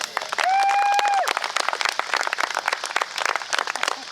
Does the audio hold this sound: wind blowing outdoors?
no